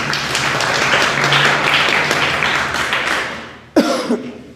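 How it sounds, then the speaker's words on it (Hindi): An indoor audience applauds, with dense, even clapping for several seconds that fades out, followed by a sharp cough and some throat clearing near the end. "ताली बजाइए"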